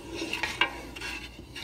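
Spoon stirring a pot of simmering corn and chia seed pudding, with soft scraping and a couple of light clinks against the pot, close and fairly quiet.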